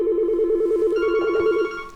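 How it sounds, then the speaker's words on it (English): A mobile phone placing a call to a Yealink desk phone gives a steady warbling ring tone for about a second and a half, clear and close, with a brief higher tone layered in before it fades. "I'm going to place the call to the organisation using my mobile phone."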